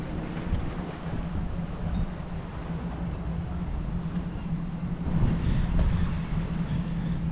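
A powerful three-engine boat passes in Torquay harbour, giving a steady low rumbling drone under gusting wind noise that swells louder near the end.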